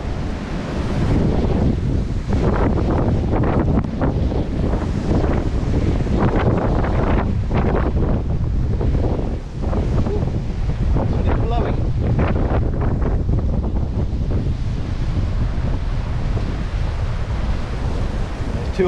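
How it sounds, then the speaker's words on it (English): Strong gusting wind roars across an open riverbank during a pike and eel fishing trip in snow and sleet, a loud, steady buffeting rush that batters the microphone almost without pause. "Nice bit of snow now, or sleet, whatever you want to call it. And wind as well, it's terrible."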